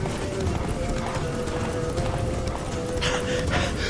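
A horse's hooves gallop steadily in The Witcher 3 video game, a fast rhythmic clip-clop heard close and continuous with game ambience behind it.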